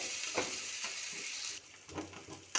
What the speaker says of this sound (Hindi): इसमें ये जल जाएगा तो हम प्याज ऐड करेंगे।